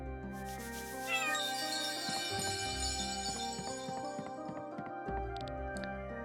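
Cat meowing in the video game Chained Echoes, a drawn-out rising and falling meow near the start, followed by soft ambient tones and light clicks.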